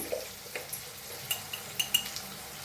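Onion stirred with turmeric, cumin powder and red chilli in a pan, a spoon scraping and clinking against the metal in irregular taps over faint frying.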